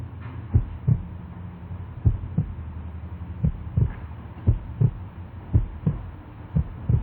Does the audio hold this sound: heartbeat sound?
yes